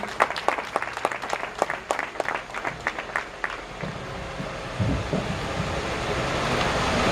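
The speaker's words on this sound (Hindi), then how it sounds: "दोस्तों एक बार जोरदार तालियां भाभी जी के लिए भी होनी चाहिए।" An audience at a seminar applauds with a burst of claps that fades after a few seconds into a steady rushing ambience.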